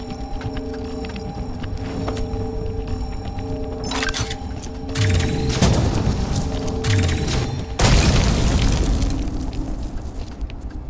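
Deep booming blasts roll out in a video game over a droning backdrop, with several heavy rumbling explosions arriving in bursts and a couple of sharp crackling hits. No one speaks.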